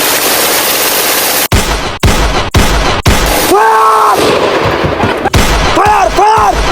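Gunfire sound effects in a mock battle scene crack out as sharp single shots over a steady noisy bed. Wavering tonal wails rise between the later shots.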